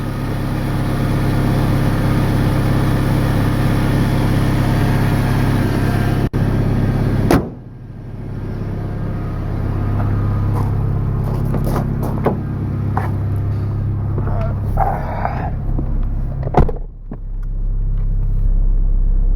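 A 1999 Toyota Tacoma 2WD with an RZ-FE engine idling: a steady, loud, close low rumble with a brief knock and a short dip partway through.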